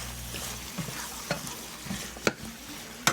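Chicken wings sizzle softly in a pan with a steady low frying hiss, broken by a few sharp utensil clicks and scrapes near the end.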